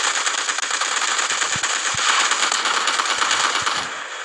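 Automatic gunfire in the Delta Force Mobile shooter game, a dense rattling burst filling the whole stretch at steady loudness, with sharp individual shot thumps standing out, no talking.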